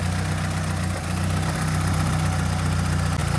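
An Opel Calibra C20NE engine idles steadily with a deep, throbbing rumble and a slight uneven shake, close by and continuous with no talking.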